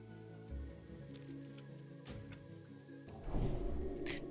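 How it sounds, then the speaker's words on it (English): Steady downpour of rain in Ashenvale in World of Warcraft Classic, a continuous soft wash of falling water with ambient game tones and a brief brighter chirp near the end, moderately quiet with no talk. "Downpouring here in Ashenvale."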